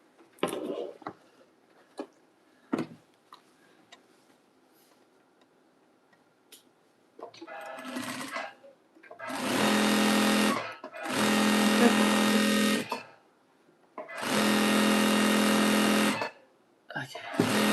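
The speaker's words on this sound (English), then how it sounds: "Sew on a straight piece of fabric and just make sure it's sewing okay." A sewing machine stitches a straight piece of fabric for a jelly roll rug in three loud, steady bursts of fast rattling whir, each a few seconds long, after a stretch of scattered clicks and handling noises and some talking.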